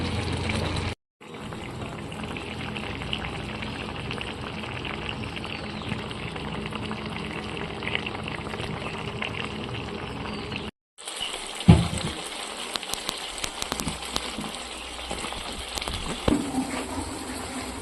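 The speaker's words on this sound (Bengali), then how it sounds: "এবারে এটাকে আমরা 10 মিনিট ফুটতে দেব।" Chicken maharani curry with milk and cumin simmering in a pan, a continuous close bubbling and sizzling wash that cuts out briefly twice, with a few clinks later on.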